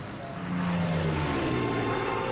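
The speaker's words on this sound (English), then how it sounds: "one of the Spitfires about to take off" A Supermarine Spitfire's engine runs up for takeoff, a steady droning propeller roar that swells louder after a moment and holds, with no voices over it.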